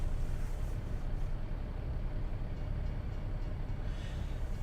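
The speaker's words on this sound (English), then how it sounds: "I hear a train." A train passing in the American Truck Simulator game, a steady loud low rumble and roll of rail cars mixed with engine drone, continuous throughout without any speech.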